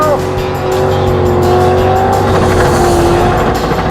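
A beater car doing a tire burnout, a loud sustained engine roar under heavy throttle with a wavering high squeal of spinning rubber, close and continuous.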